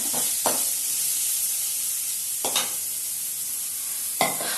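Onions sautéing in oil for a Tamil ennai kathirikkai kulambu, a steady close sizzle with three sharp stirring scrapes spaced through it.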